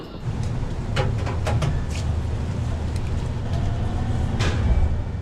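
A train sits or runs at a platform of Shizuoka station, giving a steady low rumble and hum throughout with brief higher clanks and hisses over it, fairly close, with no voices.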